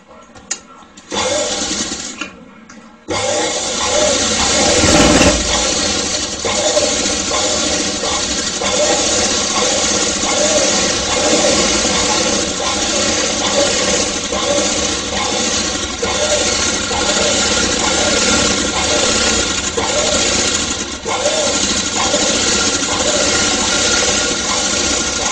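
A sewing machine runs a long, steady stitching pass along a folded fabric piece during a basic tailoring lesson, starting after a few quiet seconds and then droning loudly and continuously with no talking.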